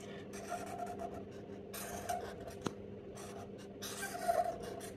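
A pen scratches across paper while sketching a diagram of a wind turbine tower pipe and bearing, with faint, close, intermittent scribbling strokes over a low background hum and one small tap.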